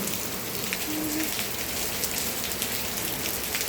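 Heavy rain falls steadily and close by, a dense continuous patter of drops striking surfaces with no pauses, and no voices are heard.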